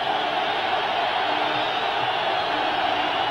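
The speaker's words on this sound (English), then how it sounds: "Crowd exhorting the 49ers defense." A stadium crowd roars steadily for the San Francisco 49ers defense at a 1989 NFL game against the New York Giants, a dense, even wash of cheering that holds throughout.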